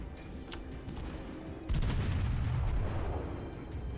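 Naval guns on a Japanese Aoba cruiser fire in World of Warships, with a loud heavy boom that kicks in partway through and rumbles on, over a background of earlier distant gunfire.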